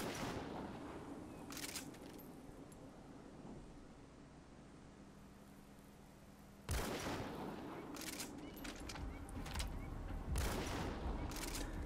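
Molotok-68 sniper rifle gunfire in Metal Gear Solid V: a few heavy, sharp shots and impacts ringing out with rumbling tails over quiet game ambience, spaced several seconds apart.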